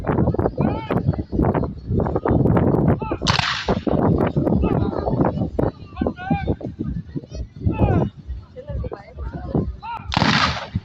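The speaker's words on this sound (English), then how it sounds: "shall we ask our Union to do firing by rank? It looks a bit like this." Union reenactors at a Civil War reenactment in a Leicester balloon festival arena fire muskets by rank, two sharp loud volleys cracking out several seconds apart over constant crowd chatter and a nearby voice.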